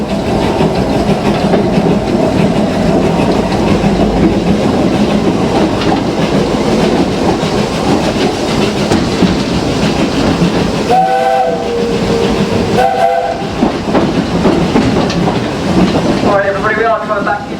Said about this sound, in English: please do stay seated until the train comes to a stop